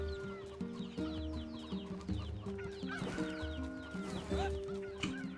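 Chickens cluck in repeated short bursts over looping game music in NieR Replicant, fairly close and clear, with a rising squawk near the middle.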